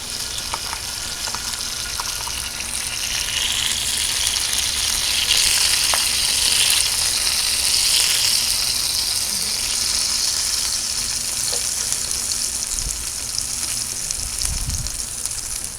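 Onions fry steadily in a hot pan, a loud, dense, even sizzle that holds unbroken throughout with only slight swells and a few faint clinks.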